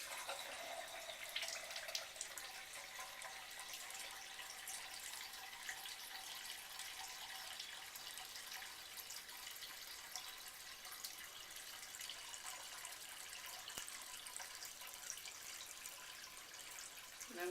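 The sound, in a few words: water filling a Kangen SD501 water machine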